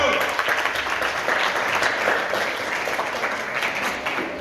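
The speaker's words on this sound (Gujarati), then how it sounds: "જોરદાર તાળીઓ આપો" Audience applause at a Jain religious discourse gathering, a dense sustained clapping from a crowd filling the whole stretch, steady and fairly loud with no pauses.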